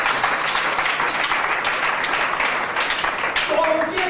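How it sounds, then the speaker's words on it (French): A congregation at a sermon on spiritual fathers and sons claps hard and fast in a dense, loud burst of applause lasting several seconds, with a voice briefly rising over it near the end. "Acclamez très fort."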